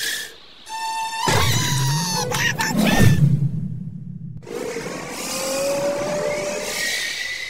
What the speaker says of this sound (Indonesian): Dia memacu kendaraannya dengan sangat kencang. Saat tiba di ujung jalan, Daniel segera mengerem mobilnya dengan keras